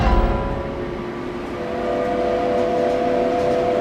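A subway train rumbles along steadily, with a sustained tonal whine or horn-like drone over the running noise, loud and continuous throughout.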